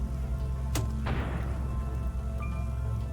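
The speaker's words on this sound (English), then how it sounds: "See what a frag does against him" A frag grenade in the video game Underrail goes off as a single sharp crack followed by a short fading burst of debris, set over a steady low hum.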